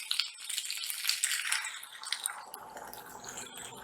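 About two cups of water go into a pot of potatoes frying in oil for an aloo sabzi. A bright hiss and crackle with dripping splashes fades into a softer, lower bubbling, heard close and alone.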